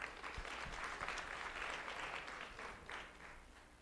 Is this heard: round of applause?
yes